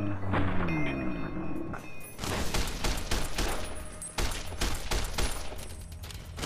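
Service rifle gunfire in the video game Fallout: New Vegas, a rapid run of sharp, loud shots with mechanical clatter, repeating steadily through the scene with no talk.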